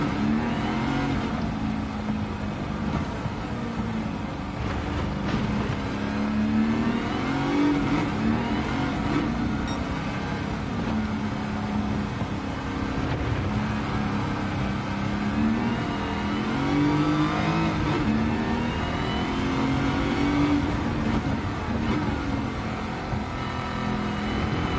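A supercharged Pontiac GTO Judge engine in the racing game Gran Turismo 7 revs and climbs through the gears, a loud, continuous engine note with repeated rising pitch sweeps throughout.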